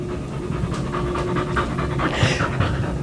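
A dog pants steadily and rhythmically at close range for about three seconds, quick breaths repeating without pause under low background noise and with no talking.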